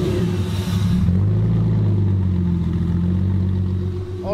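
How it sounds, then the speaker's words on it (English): A Porsche Boxster engine settles into a steady idle after a brief rev at the start, holding a loud, close, even drone with no speech over it. "All right, well now it's idling,"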